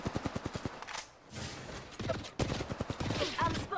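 Rapid automatic fire in the battle royale shooter Apex Legends, a fast rhythmic string of shots up front, a brief lull, then more bursts resuming with clattering impacts, moderately loud and near.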